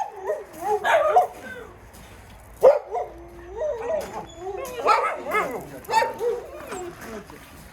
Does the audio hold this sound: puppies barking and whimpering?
yes